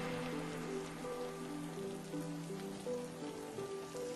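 Rain falling in a steady, soft patter, faint and continuous with a low background hum and no voices.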